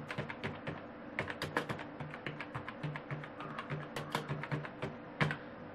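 Computer keyboard typing in Microsoft Word, a quiet, steady run of close key clicks with occasional louder taps, heard alone without talk.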